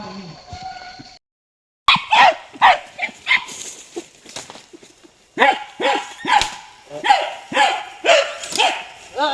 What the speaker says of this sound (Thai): ตอนนี้มันเห่าแล้วผม